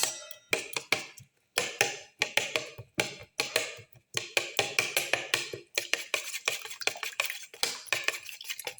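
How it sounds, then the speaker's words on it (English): A utensil whisking an egg and tomato mixture for a black pepper cilantro omelette in a bowl, steady rapid clinking taps against the sides in a brisk even rhythm, close and alone without talk. "Thoroughly mix in. And while mixing, crush the tomato pieces further."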